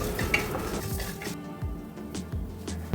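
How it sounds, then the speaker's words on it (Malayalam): Urad dal, chana dal, ginger, green chillies, curry leaves and cashews fry in hot oil with a soft sizzle, broken by stirring and clinks of a spoon against the pan. "ഒന്ന് മൂത്ത് വരുമ്പോഴേക്കും അതിലേക്ക് ഇഞ്ചിയും പച്ചമുളകും കറിവേപ്പിലയും അണ്ടിപ്പരിപ്പും ഇട്ട് മൂപ്പിക്കാം"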